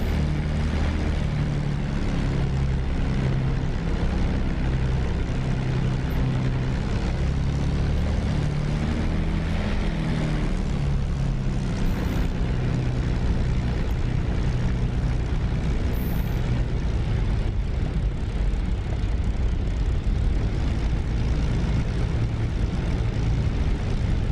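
Propeller-driven P-51 Mustang taxiing in the DCS flight simulator, a steady low engine drone with rumbling harmonics that holds loud and continuous throughout, with no talk.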